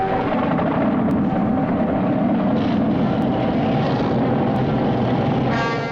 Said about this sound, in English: Unidentified aircraft approaching Taviti. Those are jet planes. An attack.